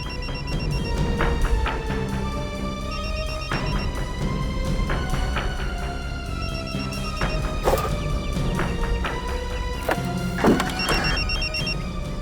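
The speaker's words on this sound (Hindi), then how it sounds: "सर, मोबाइल के बजने की आवाज आ रही है" A mobile phone rings from inside a post box, a repeating melodic ringtone that sounds over steady low background noise and recurs at regular intervals.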